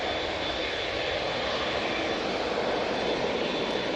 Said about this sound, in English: TUI Dreamliner coming down Victor Alpha.